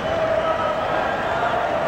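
A dense, steady crowd roar fills a hockey arena during the 1984 Canada Cup final between Sweden and Canada, loud and continuous with no breaks.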